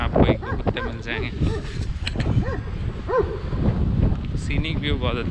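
Several dogs barking across a Dutch countryside village in southern Netherlands, with wind buffeting the microphone and a voice talking over the moderately loud, repeated barks.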